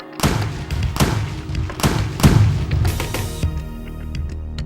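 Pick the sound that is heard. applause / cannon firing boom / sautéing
cannon firing boom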